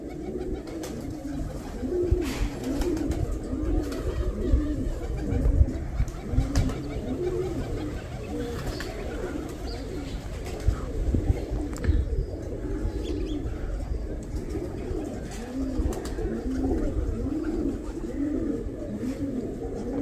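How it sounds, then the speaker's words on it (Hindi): Pigeons coo continuously in a flock, overlapping throaty calls rolling on for the whole stretch, fairly close, with a few brief chirps and faint background noise. "कबूतर पर आवाज सुनो"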